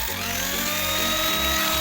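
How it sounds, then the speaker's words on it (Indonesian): A power grinder sands damaged chrome trim, running loud and steady with a continuous whine and slight dips in pitch as it presses into the metal, alone without talk. "Di sini kita pakai ini ya, pakai gerinda."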